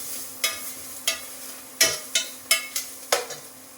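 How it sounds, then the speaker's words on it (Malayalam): Dry fruits fry in ghee with a gentle, continuous sizzle, punctuated by six or seven crisp spoon scrapes against the pan at a steady pace. "നെയ്യ് കുറച്ച് ഫ്രൂട്ട്സും കൂടെ നമ്മൾ അതിനകത്തേക്ക് ഇടുക."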